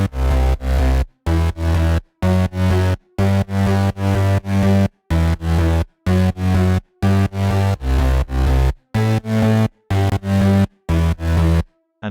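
Crispy detuned synth basses layered over a deep sub bass, made in FL Studio with Vital, pulse in short, punchy rhythmic stabs with brief silent gaps, loud and alone.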